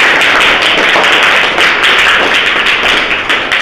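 Young children clapping together in a Jharkhand government school classroom, a dense continuous patter of many hands, loud and close, with no talk.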